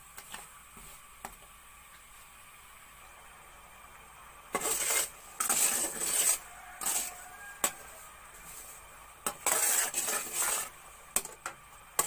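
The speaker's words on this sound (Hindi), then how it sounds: "अब इस तरह चम्मच चलाते रहेंगे।" A spoon scrapes and stirs jaggery syrup in a pan for halwa: quiet at first with a few faint ticks, then repeated bursts of close metallic scraping in uneven strokes through the second half.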